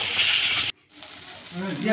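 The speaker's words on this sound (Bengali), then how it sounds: "ভালো মতো কষিয়ে কাবলি ছোলাটা ঢেলে দিলাম" Kabuli chickpeas tipped into a hot pan of spiced masala, with loud steady sizzling, a brief drop to near silence and then renewed frying hiss, while a voice talks faintly over it.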